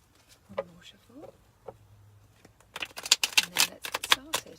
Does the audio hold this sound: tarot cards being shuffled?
yes